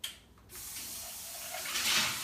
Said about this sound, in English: I'm going to rinse this out while you're enjoying.